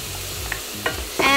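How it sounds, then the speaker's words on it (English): Shrimp and bacon frying in a pan, a soft sizzle broken by a few sharp clinks of a utensil stirring against the pan, ending in a louder scrape. "And I'm just gonna keep frying that."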